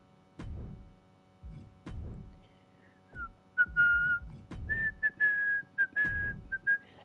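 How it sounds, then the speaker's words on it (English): Whistled melody from Cody Rhodes' entrance music in WWE 2K25, a clear, clean whistled tune in short phrases that starts after a few dull thumps and continues alone at moderate loudness. "Cody Rhodes' music is playing for me right now, by the way. In case you didn't realize by the whistling"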